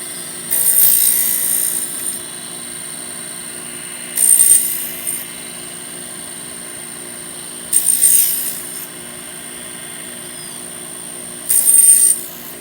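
Wooden mast hoop rings being sliced off one at a time, with four separate rasping cuts, each lasting roughly a second and spaced a few seconds apart, over a steady high machine whine.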